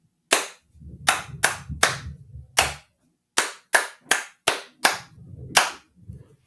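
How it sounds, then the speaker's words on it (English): A single pair of hands claps out a rhythm in a music lesson, about a dozen sharp, close claps in an uneven pattern with gaps and one longer pause midway, alone in a quiet room. "I'm just going to clap, and you can figure it out."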